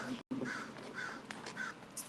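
Crows caw repeatedly at moderate distance outside a fire-burned home, several harsh calls spaced through a short stretch with steady outdoor background noise.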